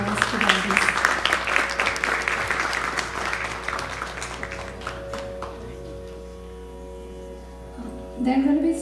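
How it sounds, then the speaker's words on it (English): Audience applause at a Carnatic music fundraiser concert, loud at first and thinning into scattered claps and fading, while tanpura-like drone tones hum underneath and a voice comes in near the end. "Please give a round of applause to the audience"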